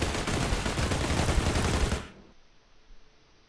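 Infinite-ammo gun in Borderlands 3 fires in a continuous rapid stream of loud shots for about two seconds, then abruptly stops, leaving quiet background.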